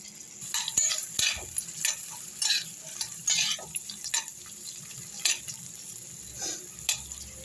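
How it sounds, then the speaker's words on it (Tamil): Onion, two green chillies and cashews frying in a pan, with a steady sizzle broken by repeated scrapes and clinks of a spoon stirring against the metal, close and fairly loud. "பச்சை மிளகாய் 2, முந்திரி எல்லாம் போட்டு நல்லா பொன்னிறமாக வறுத்துடலாம்."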